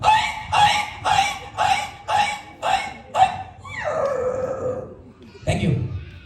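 A comedian's voice imitates a dog, giving seven rapid, loud rhythmic barks, then a drawn-out falling yelp and one final short yelp, close and clear before an audience.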